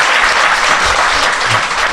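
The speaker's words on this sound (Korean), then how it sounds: "박수 한번 부탁드립니다." Loud, dense clapping from an audience, continuous and even for the whole moment, with no voices over it.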